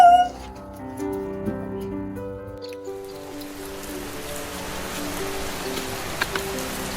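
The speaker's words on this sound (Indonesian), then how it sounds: "Alia hujan tuh Alia." Steady rain hiss builds and fills the second half, spreading broad and even, after an opening dominated by sustained musical tones that fade as the downpour takes over.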